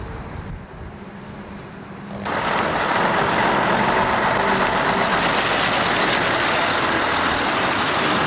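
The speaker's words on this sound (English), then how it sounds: "A huge truck is approaching." A large truck draws near, its engine swelling into a loud, steady roar that fills the scene, with faint beeping earlier on.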